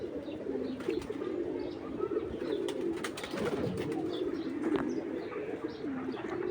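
Racing pigeons in a loft coo steadily in a dense, close chorus, with a few brief chirps and soft rustles breaking through the rolling low murmur; nobody speaks.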